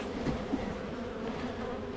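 Honey bees drone in a continuous, soft buzz around a hive at a ranch bee hut during an inspection, a steady low hum with no voices.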